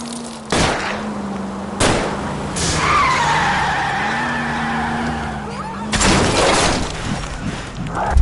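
A car skids through a police chase in the video game L.A. Noire, with a long tire squeal between sharp impacts and engine roar, loud and close, accompanied by faint in-game voices.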